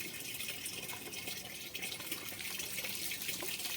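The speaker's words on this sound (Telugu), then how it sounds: "మగ్గుతోడు దడుస్తలేడని ఏకంగా బకెటే పోస్తుంది" Bucket of water poured over a German Shepherd during an outdoor bath, a steady rushing splash that runs the whole time, fairly faint and continuous with no voices.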